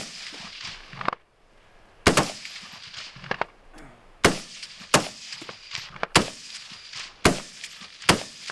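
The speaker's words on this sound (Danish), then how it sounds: "Så der øver vi og træner betjeningen af våbnet, brugen af våbnet" Gunshots ring out at a Danish Home Guard military shooting exercise, about ten loud, sharp reports spaced irregularly across several seconds, each followed by a brief echo.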